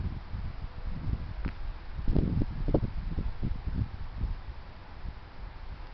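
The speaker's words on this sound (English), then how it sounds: "Look at them trees swaying in the breeze." Steady wind blowing through swaying trees, a low rushing roar with faint rustling and a few soft knocks, no voices.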